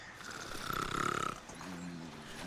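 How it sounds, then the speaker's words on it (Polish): Snoring from someone asleep at a table in Call of Juarez: Gunslinger, a single drawn-out rasping breath rising and falling, then a softer groaning tail over faint game ambience. "Chyba tam przy stole chrapia, myślałem,"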